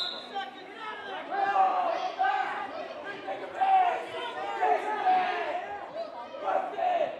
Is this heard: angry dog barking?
no